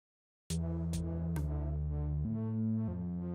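A buzzy, harmonically rich synthesizer tone from an oscillator through a filter and VCA plays a few sustained notes, with sharp attacks at the start and pitch steps as it holds steady.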